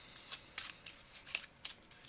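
Quiet riffling and snapping of cards being shuffled by hand for a board game, a quick run of crisp papery bursts close up with no talking.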